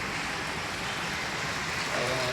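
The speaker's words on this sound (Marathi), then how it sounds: "इचलकरंजीमध्ये आज पाऊस मोठाच्या मोठा चालू आहे बघा" Heavy rain pours steadily over a town as seen from a third-floor home, making a dense, even wash of broadband hiss that stays constant from start to finish, with no voices.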